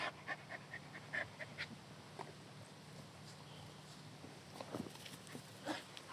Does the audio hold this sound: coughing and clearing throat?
no